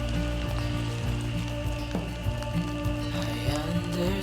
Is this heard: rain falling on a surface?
yes